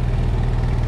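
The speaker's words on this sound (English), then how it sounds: "We do have a generator on because what we're discovering is it's 100 degrees every day" Generator running beside an RV on a hot Florida summer day, a steady, loud low engine drone with an even rumble, close by and unbroken, with no talking.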